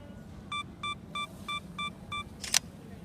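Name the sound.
Sony a7R camera taking a long exposure shot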